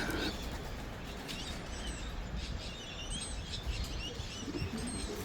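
Racing pigeons chirp and coo faintly amid a noisy outdoor background, soft scattered calls and a rustle of wings mixed into a constant low rumble.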